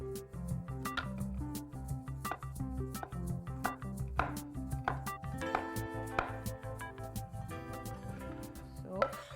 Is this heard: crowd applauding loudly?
no